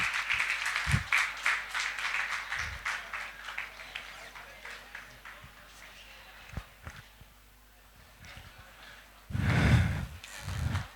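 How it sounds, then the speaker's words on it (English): An audience claps for an award runner-up at a prize ceremony, a dense burst of applause that thins and fades over several seconds, followed by a few scattered louder sounds near the end. "A big round of applause for Dawn Akhbar."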